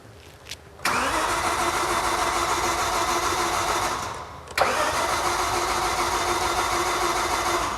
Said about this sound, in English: Are we good for a startup?